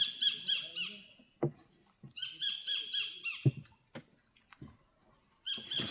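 Calls of various bird species deep in quiet Sundarbans mangrove forest at a secluded creek: repeated high chirping phrases near and far, with a steady insect-like whine and scattered knocks and thumps.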